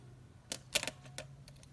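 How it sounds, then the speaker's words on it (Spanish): A few quick, close keystrokes clicking on a keyboard in a short irregular burst over a quiet background. "Estoy digitando cada una de las letras, números o caracteres especiales."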